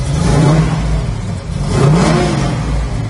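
A 1969 Chevrolet Camaro in Yenko style with an L72 big-block V8 revs loudly and close, the engine rising in two strong throttle blips over a deep idle rumble with no talking.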